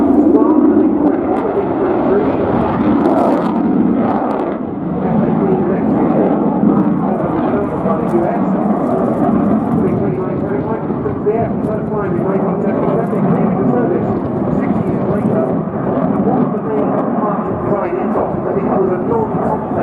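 A Polish Air Force MiG-29 jet flies a display at RIAT 2016, its loud, steady roar filling the whole stretch while a voice talks over it.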